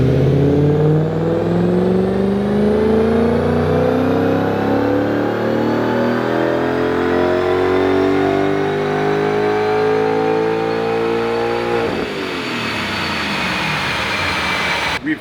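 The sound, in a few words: Audi S4 engine revving on a Dynojet dyno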